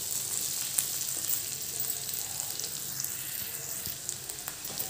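Green chillies coated in spice masala get turned in plenty of oil, a faint, even frying sizzle running steadily with a few small clicks of the spoon against the pan.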